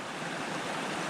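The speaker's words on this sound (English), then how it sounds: "the water comes flying out of this outlet at pretty high pressure" Water blasts out of the outlet of a Keen pump driven by a Honda motor on a gold dredge in Alaska, a steady, dense, loud rushing gush close by with no voices.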